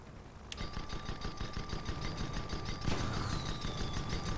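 Gatling guns rattle in steady rapid bursts between airships in an online skirmish, a dense mechanical chatter of shots holding throughout, with a thin whistling tone and a brighter surge near the end.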